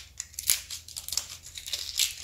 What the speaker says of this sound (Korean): 가위로 잘라줘요.